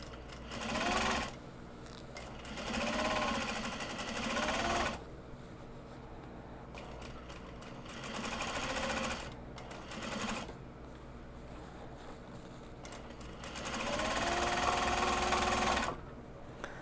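A sewing machine stitches the end seam of a small box bag in repeated bursts, rapid mechanical whirring runs of a few seconds each separated by quieter pauses, close and clear with no talk.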